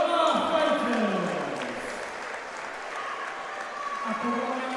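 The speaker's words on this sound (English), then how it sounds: "please, have a big round of applause for both of our fighters" A crowd at a mixed martial arts event applauds the fighters with sustained clapping and cheering that fades slightly, heard beneath an announcer's amplified voice.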